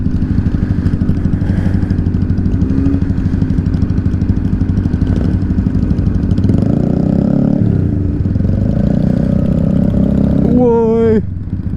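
Several cruiser motorcycles on a group ride out, engines droning loudly and steadily from the back of the pack with wind rumble, ending in a rising high revving whine near the end.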